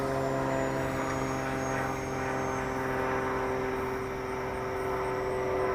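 A Timber benchtop model airplane on its maiden flight drones overhead at full throttle through a big loop, a steady buzzing engine tone that holds fairly constant with slight swells in level.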